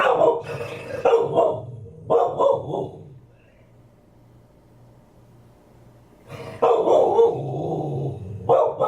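A dog barks loudly in several bursts, then falls quiet for a few seconds before barking again, close to the microphone.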